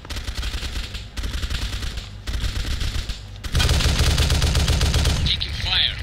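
Rapid automatic gunfire in a military simulator video game comes in loud repeated bursts separated by short gaps. The final long burst is the heaviest, and a voice cuts in near the end.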